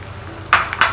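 Beaten egg dropped into hot oil, frying with two short bright sizzling bursts after a quiet start, close and fairly loud.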